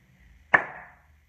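A single sharp clap of two hands, close and isolated in a quiet room, with a short ringing tail fading over about half a second.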